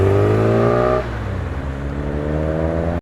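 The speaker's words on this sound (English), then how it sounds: "It's a WRX." A Subaru WRX street car leaving a car show in Tempe, Sydney: its engine note is loud and close, dropping in pitch after about a second, then holding a steady, throaty drone until it cuts off abruptly.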